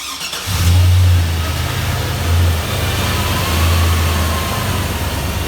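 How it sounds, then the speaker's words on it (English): A Chevrolet Silverado pickup with a 5.3L V8 and a failed 4L60E transmission revs in loud, low surges close by, the engine swelling and easing in three long pulls with no talk. "This is what your truck sounds like after the transmission goes out."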